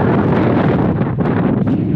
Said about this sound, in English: Very windy, hopefully you can hear this.